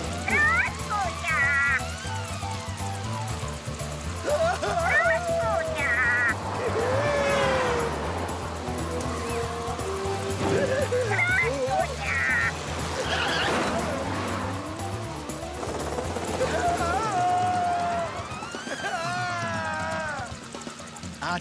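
Animated cartoon dog from The Garfield Show, Hungarian dub, barking and yipping in bursts amid busy soundtrack music and effects, with talking voices between.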